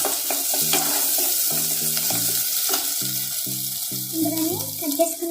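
Ginger paste frying with chicken in a home kitchen pan, a steady sizzle running throughout with a background clatter of stirring and a repeated series of short tonal beeps over the top.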